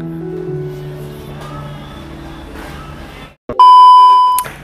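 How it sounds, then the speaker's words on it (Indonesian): A phone call ringing tone starts after a quiet stretch, a loud steady electronic beep tone holding for about a second, with a faint low hum before it. "sekarang kita telepon si Awad dulu ya"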